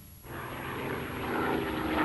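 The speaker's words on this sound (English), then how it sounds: "This newsreel shows Stuka planes carrying out precision daylight bombing raids." WWII Stuka dive bombers on a daylight bombing raid in an old newsreel, a continuous roaring aircraft-engine drone that builds steadily in loudness.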